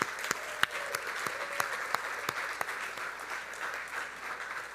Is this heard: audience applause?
yes